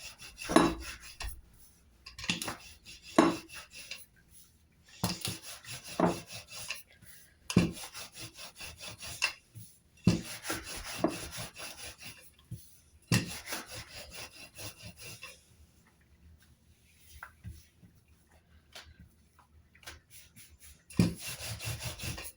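Samosa dough being rolled out thinly with a rolling pin on a floured board, giving repeated scraping, rubbing strokes in bursts with short pauses, fairly close and moderately quiet, no talking.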